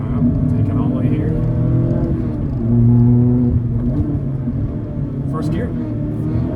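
A 2022 Mazda Miata MX-5 RF Club Package on a canyon road gives a loud, close engine rumble that swells and steadies as it pulls through the gears, with a voice talking over it.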